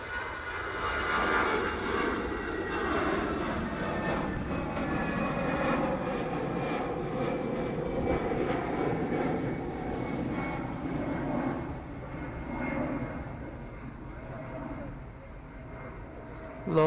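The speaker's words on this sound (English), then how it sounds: "EasyJet hurtling their way down the runway now." An EasyJet airliner roars down the runway on takeoff at Manchester Airport, a steady, loud jet engine rumble and whine that holds for the whole stretch, with faint voices underneath.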